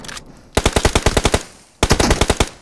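Two rapid bursts of M4 automatic rifle fire in PUBG on the Sanhok map, each about a dozen sharp, evenly spaced shots, separated by a brief pause, loud and close.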